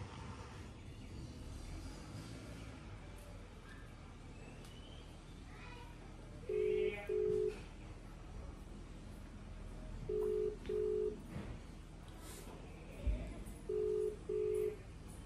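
A phone's video call ringing tone sounds in a church setting as three pairs of short beeps spaced a few seconds apart over low background noise and faint voices.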